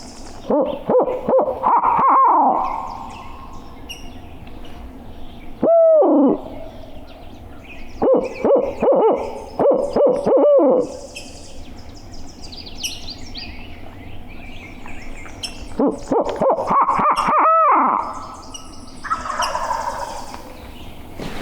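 Owl-like hooting calls ring out outdoors on a turkey hunt in several separate bursts, some loud and others farther off, with quiet gaps between them and no talking.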